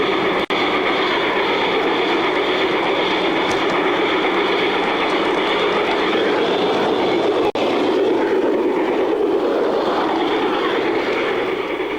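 A garden railway train runs on the Red Hawk Railroad in San Diego, giving a steady, close rolling rumble with a broad hiss that continues unbroken, with no voices.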